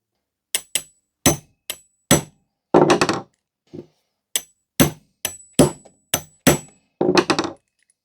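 About a dozen sharp metallic hammer blows, struck through a socket extension used as a punch on a 1960s kitchen table's metal part, land in uneven bursts, each with a short bright ring, separated by brief pauses and a few softer taps.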